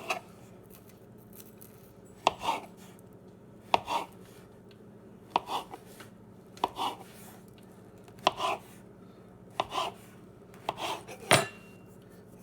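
A kitchen knife strikes repeatedly while butter rolls are being prepared, giving close, crisp taps at a steady pace of about one every second and a half over a low background hum. No one speaks.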